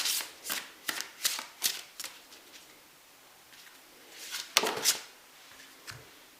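Oracle cards are shuffled in quick riffling bursts, several crisp flicks in a row, then a pause before another couple of shuffles and a card drawn, close and clear with no voices.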